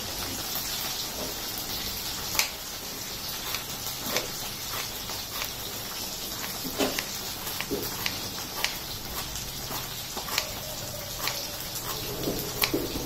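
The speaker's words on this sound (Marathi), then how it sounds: "तुम्हाला भेंडी फ्राय होण्याचा आवाज येत असेल तर भेंडी अशाच पद्धतीने छान फ्राय करून घ्यायची आहे" Chopped okra fries in a pan for bhindi do pyaza, giving an even, steady sizzle with scattered sharp crackles and pops throughout, heard close with no talk.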